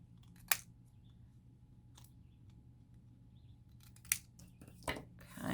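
Scissors trim a paper die cut, giving three sharp, close snips spaced apart over a quiet background.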